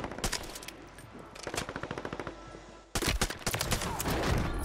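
Bursts of automatic gunfire in the Warzone video game, rapid rattling volleys that pause and then resume louder and denser, close and dominant.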